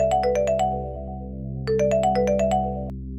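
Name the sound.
phone ringing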